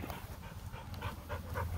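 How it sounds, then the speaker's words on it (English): An excited dog pants in quick, steady breaths close by, soft and rhythmic over a low background rumble, with no one talking. "My dog Molly always gets excited because she thinks she's going to get to go squirrel hunting"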